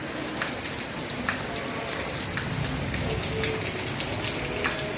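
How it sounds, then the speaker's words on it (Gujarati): Steady rain on a winter morning patters densely and continuously on surfaces nearby, an even hiss of drops with occasional sharper splashes and no pauses. "જો વરસાદ ચાલુ થઈ ગયો છે"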